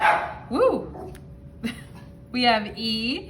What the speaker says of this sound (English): Sorry, that was my dog there.